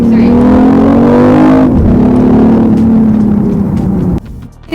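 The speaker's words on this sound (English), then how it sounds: "Flick it into sports mode, put your foot down and you really feel the aggression coming through." A BMW i8 in sport mode accelerates hard, its engine note climbing loud and close, dropping briefly at a gear change, then rising again before lifting off near the end.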